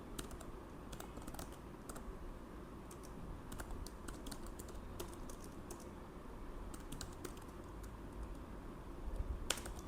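Apex code is typed on a computer keyboard in a steady run of soft, close keystrokes with occasional sharper key clicks, over a faint room hum and with no talking.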